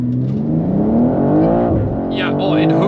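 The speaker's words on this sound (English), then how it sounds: "let's do a launch. So basically just foot down and then full throttle, and then let the system get ready" A BMW M2 G87 launches hard from launch control, engine note rising steadily as it pulls through the gear under a continuous close, loud roar, with voices speaking over it.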